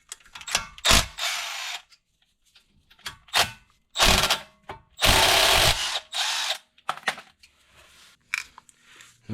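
A ratchet loosening the 14mm brake caliper bolts on a Nissan Altima's front brake: close, loud bursts of rapid clicking and whirring, broken by short gaps and repeated several times.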